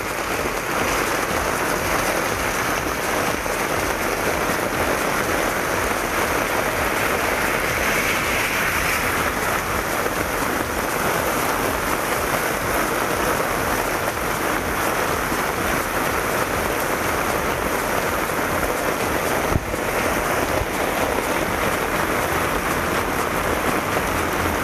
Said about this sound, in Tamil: கோயில் வெளிப்பிரகாரத்தில் மழை நீர் புகுந்தது.